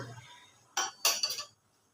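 A metal lid goes back onto a pot of chicken cooking on the stove: one sharp clink, then a short rattling clatter as it settles, close and fairly quiet, with a near-silent kitchen before and after.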